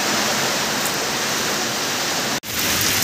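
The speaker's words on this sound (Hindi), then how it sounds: "यहाँ से पझर रहे पानी टाइप लग रहा है।" Water leaking and pouring inside a storm-damaged building where a large old tree has fallen, a constant loud rushing hiss like a stream, with a brief cut partway through.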